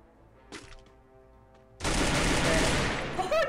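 Gunfire in the video game Free Fire: after a few quieter in-game tones, a loud sustained burst of rapid shots erupts and keeps rattling to the end.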